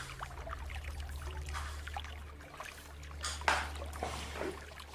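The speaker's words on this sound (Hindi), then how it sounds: "एक में मैंने आरओ का पानी डाल दिया आपका" RO water is poured into a glass holding cumin for a pH demonstration, a faint, brief splash and trickle set against a low steady hum, with no talking.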